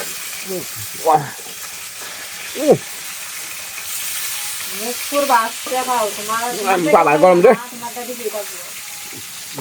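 Fish sizzles steadily in a frying pan over a village stove, a constant crackling hiss with occasional louder pops, while people talk intermittently over it.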